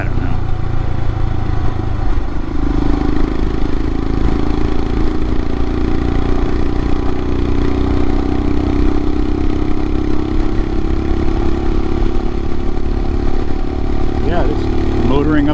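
A 2022 Royal Enfield Himalayan with a Hitchcocks carburetor conversion motors uphill, its single-cylinder engine droning steadily under wind rush, constant and close for the whole stretch.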